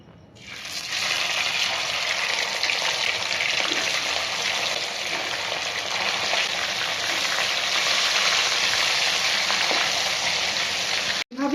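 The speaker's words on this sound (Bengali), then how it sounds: "তেলটা গরম হয়ে গেলে পরে আগে থেকে মেখে রাখা এই কাতলা মাছের পিসগুলোকে তেলের ভেতরে একে একে ছেড়ে দেবো" Marinated catla fish pieces frying in hot oil for a mustard-yogurt curry, a loud, steady, dense sizzle that fills the whole stretch without a break and cuts off abruptly at the end, with no talking.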